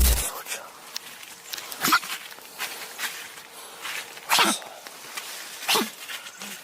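A dog makes a series of short, sharp honking snorts at irregular intervals, close by, with quiet rustling between them.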